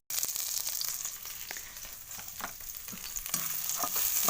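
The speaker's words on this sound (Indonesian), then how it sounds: "kita tumis dulu guys" Ingredients sautéing in a pan while cooking pempek, a steady close sizzle with soft crackles and occasional clinks of stirring, no voices.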